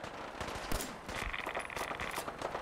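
Rad gun fire in Fallout 4 crackles in quick, dense bursts of sharp shots at moderate loudness, spread over a few seconds of game noise, with no voices.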